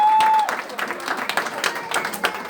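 Applause from a church worship audience fills the clip, steady clapping continuing throughout after a brief tone at the start.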